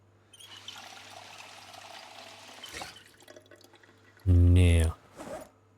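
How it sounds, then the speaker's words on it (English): Water trickling and pouring as a bottle is filled in the video game Project Zomboid, a soft continuous run of liquid lasting a few seconds, followed by a loud burst of talk in the clip. "Let's fill up my water."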